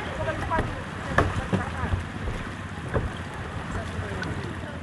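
A boat motor drones steadily at close range under gusting wind at sea off Lewoleba, Indonesia, heading to Pulau Siput, with scattered knocks and thumps and some faint voices.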